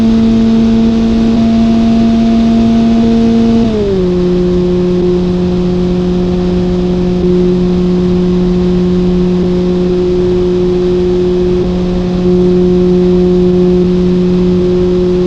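A car engine in the BeamNG.drive game holds a steady loud drone near top speed after a brief pitch drop around four seconds, continuous and close with no talking.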